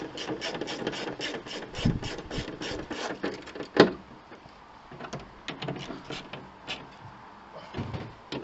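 A ratchet tightens the mounting bolts of a Range Rover L322 rear wiper motor, torqued to 30. Close, quiet bursts of rapid ratcheting clicks are broken by a sharper metallic clunk partway through.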